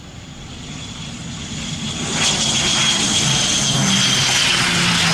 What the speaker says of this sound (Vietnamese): mời mọi người chiêm ngưỡng hạ cánh của chiếc ATR72 đáp trong điều kiện thời tiết gió lớn này nha